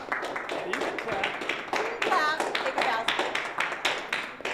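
A small group claps hands in quick, uneven bursts, close and fairly loud, with people talking over the clapping behind the scenes of a music video shoot.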